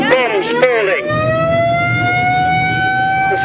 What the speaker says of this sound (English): The sound of the siren will go on for quite some time while the air raid is in progress